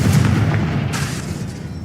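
Confringo blasting spell in a video game explodes as a loud, low booming burst that rolls out and slowly decays over about two seconds.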